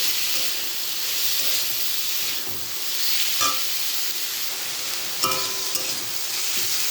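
Garlic and onion frying in oil with elephant-foot yam stems send up a loud, steady hiss, broken by a couple of sharp clinks of a utensil against the pan. No one speaks.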